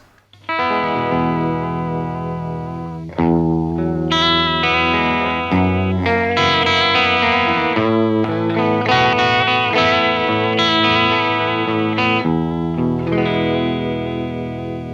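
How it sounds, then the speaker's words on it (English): Sustained guitar chords run through an emulated Boss CE-1 chorus vibrato pedal, a late-1970s Japanese bucket brigade unit, giving a warm, wavering chorus; loud and continuous with chord changes every couple of seconds, no talking. "we're modeling the Boss C1 legendary chorus vibrato pedal"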